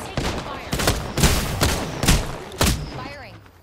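Bursts of gunfire in a shooter video game, several sharp volleys spaced about half a second apart, loud and close, with a player's voice talking over them.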